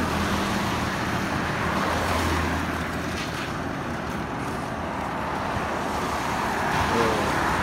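Continuous road traffic on a road in the Gambia forms a steady, dense roadway roar with no distinct individual pass-bys.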